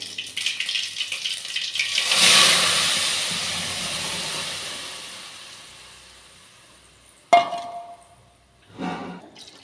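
Water poured into a hot pan of fried ingredients for kara chutney hits with a sudden loud sizzle that slowly fades to a soft hiss, followed by a couple of brief clinks and rattles.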